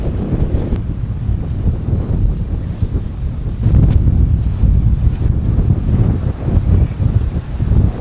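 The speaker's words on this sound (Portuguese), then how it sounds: "Que ventania, credo!" Strong storm wind buffets the microphone while fishing at sea, a loud continuous low roar with gusty surges and no speech.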